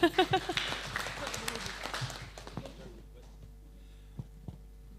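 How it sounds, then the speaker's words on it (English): At a signing ceremony and public lecture, the audience breaks into applause that starts loud and dense, then thins out and fades within about three seconds, leaving a few scattered claps and some speech. "Yeah, you can give applause."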